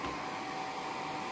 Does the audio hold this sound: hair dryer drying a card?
yes